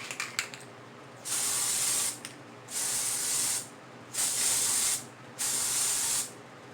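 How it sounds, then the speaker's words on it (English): Glitter spray from an aerosol can is sprayed onto a DIY bow holder in four steady hissing bursts, each lasting about a second, with short pauses and a few light clicks at the start. "I'm going to spray this with the glitter."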